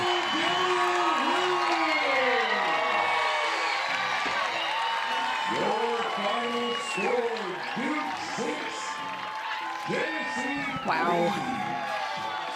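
A record crowd at a college softball game between Duke and Tennessee cheers and whoops steadily after Duke's win, a broad, sustained roar under a commentator's voice talking throughout.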